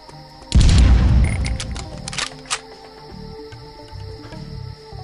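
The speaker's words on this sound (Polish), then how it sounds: "Ale ja doszedłem do wybuchu." A loud booming explosion in a video game set in Afghan tunnels, a sudden blast that swells then decays into low rumbling and scattered clatter, followed by quieter game background sounds.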